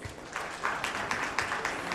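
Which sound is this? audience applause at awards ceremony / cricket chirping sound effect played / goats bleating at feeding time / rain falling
audience applause at awards ceremony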